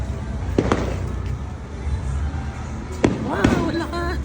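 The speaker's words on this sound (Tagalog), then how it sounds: "Todo fireworks." Fireworks bursting outdoors, apparently at a fiesta: a sharp bang near the start and a louder burst past the three-second mark with crackling tails, over steady background noise.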